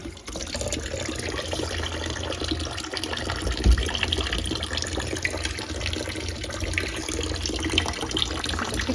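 Water runs steadily from a kitchen sink tap, a continuous close splashing stream with no talk over it.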